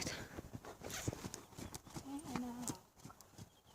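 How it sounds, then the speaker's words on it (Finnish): A pony's hooves clip-clop in a quick trotting rhythm on an outdoor riding track, moderately close, while a person talks over the steps. "Poni ravailee."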